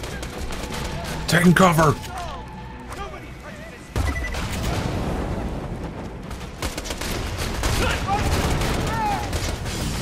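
Gunfire in Borderlands 2 during a co-op firefight, with a loud burst of shots early on and sustained shooting and impacts afterward, mixed under frequent talk from the players.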